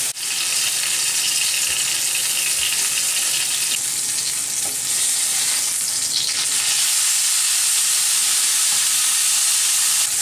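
Pork tenderloin searing in a hot pan, a loud, continuous close sizzle and spatter holding steady throughout with no voices.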